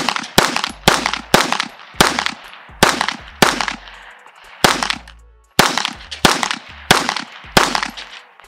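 A Canik TP9sfx pistol fired in a series of about eleven sharp, loud shots, mostly in quick pairs and short runs with brief pauses, each crack followed by a short echoing decay.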